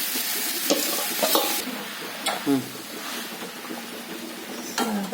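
Vegetables for a veg dum biryani cook in a pan with a broad, constant sizzle and occasional spoon stirs and scrapes, close up and moderately loud, without speech.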